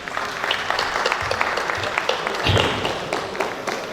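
Audience applause at a village meeting, following a speech by a Vice President: a steady wash of clapping that holds throughout with a brief swell near the middle, with faint voices mixed underneath.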